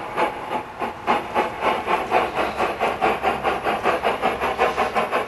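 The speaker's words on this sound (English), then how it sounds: "and then turning the throttle up, the locomotive all on its own" An Accucraft K27 Mudhen gauge 1 live-steam model locomotive moves off under radio control, its steady rhythmic chuffing exhaust beats and hiss running close and even throughout.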